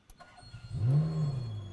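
A race car engine cranks and catches after stalling, rising into a smooth idle that holds steady, close and moderately loud.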